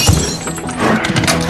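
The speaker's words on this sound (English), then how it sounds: "Suddenly, a bullet shatters the window." A glass window shatters from a gunshot, a loud bright burst of breaking glass followed by scattered tinkling shards, close and harsh throughout.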